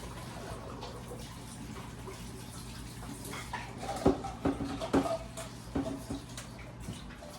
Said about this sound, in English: I'm going to drain out the hot water and put cold water in there.